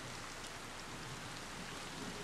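Steady, faint rain falls as a dense, even hiss in a scene from the horror film Barbarian, with no voices or other distinct sounds.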